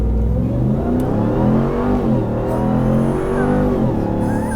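Supercharged V8 of a 2021 RAM TRX pickup revving hard, loud deep exhaust blips rising and falling in pitch with supercharger whine on top, close and alone without talk.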